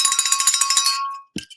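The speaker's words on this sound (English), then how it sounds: "All right, there's the bell." A bell rings in a fast, bright trill of rapid strikes that decays after about a second, followed by a short, lower knock.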